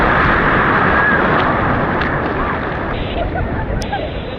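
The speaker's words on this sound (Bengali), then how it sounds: "আজকে ঢেউ এত বেশি" Big sea waves crash and surge at Puri beach, a loud, continuous broadband roar of heavy surf close by with wind buffeting the microphone throughout.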